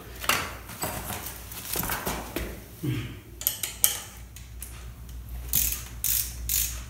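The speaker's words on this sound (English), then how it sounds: "take out our 12 little nuts and bolts and washers and put them in a little Ziploc baggie" Small metal nuts, bolts and washers clatter and jingle as they are dropped into a Ziploc bag, giving a run of close, irregular clinks and rattles with brief pauses between handfuls.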